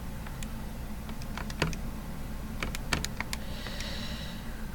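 Fingers tap out a string of quick, irregular plastic key clicks on a calculator, close and fairly quiet, with small pauses between bursts and no one speaking.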